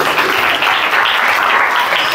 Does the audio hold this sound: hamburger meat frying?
no